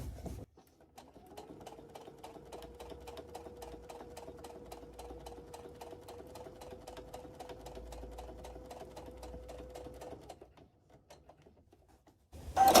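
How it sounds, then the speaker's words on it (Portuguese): A sewing machine stitches over reverse appliqué quilting, running steadily for about nine seconds with a fast even needle rhythm and motor hum, close and moderately loud, starting and stopping cleanly with no talk. "Agora eu preciso fazer 3 vezes a costura em cima, e é com isso que eu vou corrigir este defeito."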